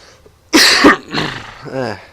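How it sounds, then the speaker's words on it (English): Several sharp coughs from a man playing a strategy game, a close, loud burst of hacking followed by a rougher throat-clearing cough and a strained vocal sound, alone without speech. "I will have a coughing problem probably throughout the whole thing"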